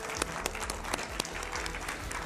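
Studio audience applause greeting a guest on a Hindi television debate show: dense, steady clapping throughout, loud and close, with a faint voice underneath.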